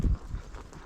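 A couple of dull hoof thuds sound close by, a brief clip-clop of a horse stepping, low and muffled.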